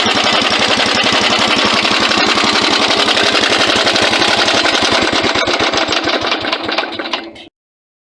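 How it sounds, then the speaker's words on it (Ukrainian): A ZID engine-driven welding generator runs on gas, its motor droning loud and steady at close range for about seven seconds before abruptly cutting off. "так працює апарат на газу"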